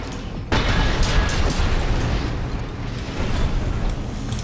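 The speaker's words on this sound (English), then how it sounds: "What the hell of grenade is this?" Grenade blast in the video game Armored Core VI, a sudden loud booming burst followed by a long, dense rumble that stays loud for several seconds, with faint metallic tones on top.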